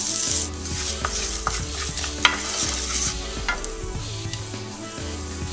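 Rice being stirred with softened shallots in a sizzling pan for green garlic risotto, a steady low hiss under repeated spoon scrapes and occasional clacks against the pan, close and without talk.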